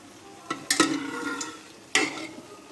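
Potatoes and spices for a meat curry being fried and stirred in a pan, with a few sharp scraping stirs and bursts of sizzling over a steady low fry, close and alone.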